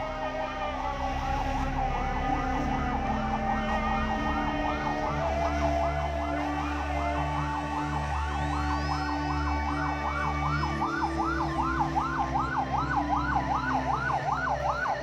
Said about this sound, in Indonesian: 2 unit mobil dari Dinas Pemadam Kebakaran Pemerintah Abia tiba di lokasi untuk